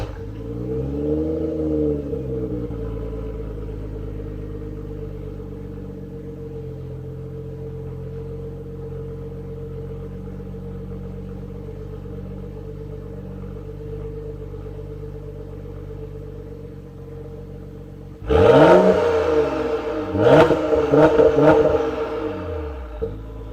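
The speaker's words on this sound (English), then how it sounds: "I'll let you guys hear the exhaust. I'll include a cold start, and I'll include a warm start and a couple of revs" A BMW E82 135i (N55) exhaust idles with a deep, steady rumble after starting, then several sharp revs climb and fall near the end.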